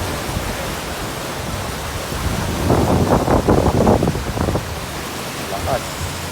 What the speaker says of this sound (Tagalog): Laki ng wave, oh.